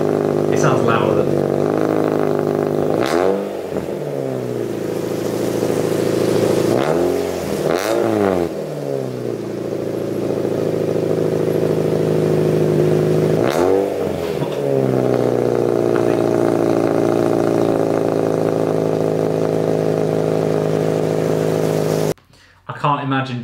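A Mazda MX-5 NC with a Goodwin Racing Helmholtz midpipe exhaust idles and revs in several bursts, a steady close drone punctuated by rising throttle blips, with people talking over parts of it.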